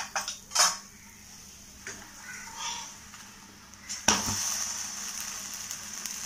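A dosa is turned over in an appam pan over a medium flame, with a few sharp metallic scrapes and clinks of the spatula against the pan and a soft hiss underneath.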